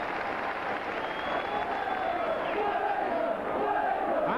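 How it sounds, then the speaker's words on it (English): Rugby league crowd roaring at Wigan v Halifax as Wigan press Halifax back on their own line, a steady, dense wall of cheering and shouting that holds throughout without a break. "The crowd urging them on here."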